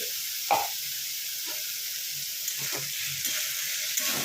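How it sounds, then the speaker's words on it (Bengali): Potato frying with onion in a pan, a close, even sizzle and hiss with a sharp stir at the start and a few lighter scrapes spaced through. "আলুটাকে এবার ভালো করে ভেজে নেব। আলুটা ভালো করে ভাজলে পেঁয়াজটাও সেই সঙ্গে গলে যাবে।"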